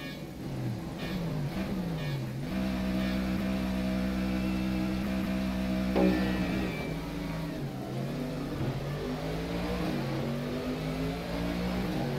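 A race car engine in the rFactor 2 racing sim, an ACR Zakspeed Mercedes, drones steadily and loudly through the whole stretch, its pitch rising and falling with shifts and throttle, with no talk over it.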